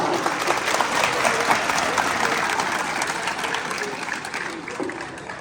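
Students clap together at a school quiz held in an Islamic school, producing dense, loud, sustained applause from a roomful of children that holds steady and eases off slightly near the end.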